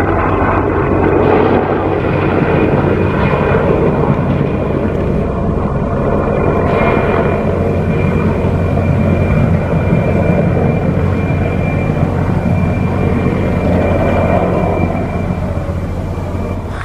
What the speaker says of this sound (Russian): Вертолеты летают.